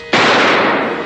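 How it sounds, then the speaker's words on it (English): A single loud, sharp gunshot cracks out in a radio-drama raid at the Kellogg Car Customizing Company, a sudden broadband blast that hangs as a long, dense roar of noise through the rest of the moment. "A gunshot."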